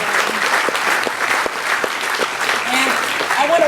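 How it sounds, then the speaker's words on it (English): Audience applause at a Princeton home during a visit, a steady dense wash of clapping throughout, with a voice and cheers rising faintly under it. "So let's give them a big round of applause."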